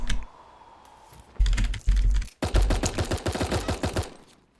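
Bursts of SMG fire from the cartoon battle royale game Super Animal Royale, starting with a few heavy separate shots and then a fast, loud rattling volley that fades at the end; no talk.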